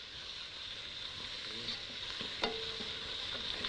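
Onion and garlic stirred together as they fry in a pan, giving a steady close sizzle with occasional soft scrapes and one sharper clink, no voices.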